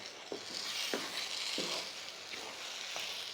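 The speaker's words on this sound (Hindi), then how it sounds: "अच्छी तरह से मिक्स करेंगे चीज़ें में, और साथ साथ हम इसको भी भूनेंगे।" Date paste for halwa stir-fried in a pan, giving a steady close sizzle broken by soft rhythmic scraping strokes of the stirring spoon about every half second.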